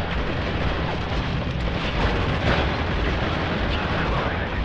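Dense, continuous gunfire and explosions from Spec Ops: The Line fill the scene as a loud, unbroken roar of shots and blasts.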